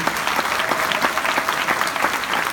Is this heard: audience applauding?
yes